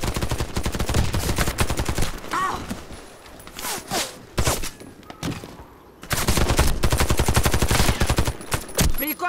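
Dense automatic gunfire in a shooting video game, long rapid bursts near and loud, broken by a quieter stretch of scattered shots and footsteps before the heavy firing resumes.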